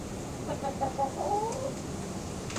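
Chickens cluck softly in a run, several short, quick clucks bunched together over a quiet outdoor background, faint and at some distance.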